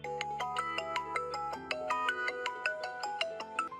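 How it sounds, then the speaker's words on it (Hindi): A phone's melodic ringtone plays continuously, close and clear, with steady repeating electronic tones and no voices over it. "घंटी तो जा रही लेकिन फोन नहीं उठा रहे हैं वो।"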